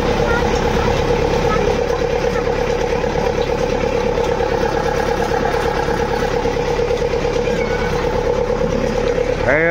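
A harvester machine and tractor working a paddy field in a village: a loud, continuous engine drone with a steady, throbbing idle that holds at the same level throughout.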